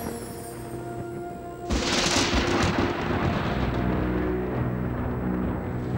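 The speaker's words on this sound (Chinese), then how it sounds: "怎么回事？怎么打雷了？打雷了，下雨了" Thunder from an animated children's detective story breaks in suddenly as a loud, broad rumbling crash after a quieter stretch, then rolls on as a sustained roar with rain-like hiss.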